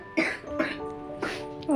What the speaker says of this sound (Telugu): బాగా దగ్గు వస్తుంది